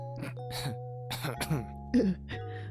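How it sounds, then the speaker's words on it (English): A harsh cough follows brief laughter from a character in a Portal-style game set at Aperture Science, close and loud, with a short burst near the middle and game voices and tones around it. "Core laughs, then coughs harshly."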